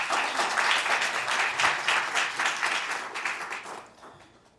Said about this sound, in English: So just please give him a round of applause as well.